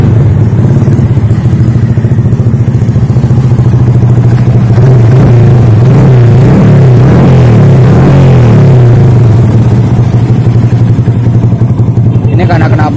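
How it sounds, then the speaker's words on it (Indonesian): A loud motorcycle engine fitted with a racing exhaust idles and revs with a harsh, raspy exhaust roar that continues steadily throughout, close by. "Ini karena knalpotnya menggunakan knalpot racing, jadi suaranya berisik."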